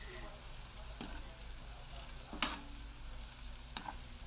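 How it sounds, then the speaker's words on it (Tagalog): Garlic frying in plenty of oil until brown, a quiet steady sizzle with a few soft clicks of a utensil against the pan. "Ipa-brown lang ang bawang."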